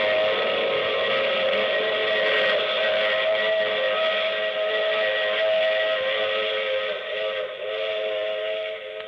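A steam locomotive whistle in an old radio drama blows one long sustained chord-like tone, loud and steady for about nine seconds, with no talking over it.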